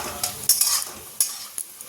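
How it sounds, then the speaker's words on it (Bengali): Small potato and coconut pieces stir-fry in a pan, with loud scraping strokes of a spatula in short bursts over a continuous oily sizzle. "নারকেলগুলো আগে ভেজে রাখলে হতো কিন্তু এত ছোট ছোট না ভেজে তুলে উঠতে পারবো না"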